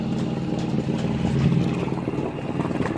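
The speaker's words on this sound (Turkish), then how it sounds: "Biz de teknemizle Gökova'ya doğru yelken açacağız birazdan." Boat under way on calm water heading toward Gökova near Çökertme on a fine October day, a steady low engine drone with broadband water and wind wash continuing throughout, close and unbroken, no voices.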